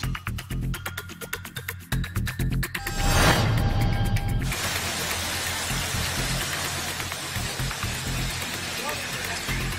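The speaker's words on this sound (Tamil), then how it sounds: "பள்ளி செல்லும் குழந்தைகள் குடையை பிடித்துக் கொண்டு மழையில் நனைந்து கொண்டு பள்ளிகளுக்கு சென்றனர்" Rain pours steadily on a street in Rameswaram as schoolchildren walk with umbrellas, a dense loud hiss that begins after a few seconds of rhythmic clattering and a swell of noise, continuing alone to the end.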